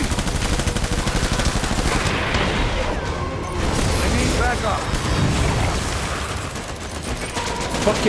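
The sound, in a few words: gunfire from the video game Death Stranding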